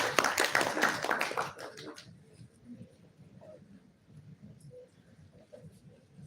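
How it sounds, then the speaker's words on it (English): Conference audience at a breast cancer meeting claps for a speaker, a dense burst of hand claps for about two seconds that quickly dies away into quiet room noise with scattered faint taps. "We have a clap for Dr. Fatma."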